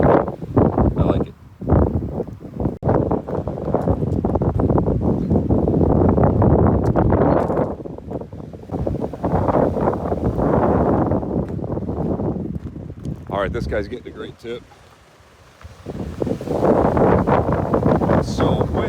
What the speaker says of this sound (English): It's so freaking windy out.